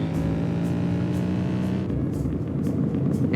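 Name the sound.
car engine driving sounds in Roblox Southwest Florida video game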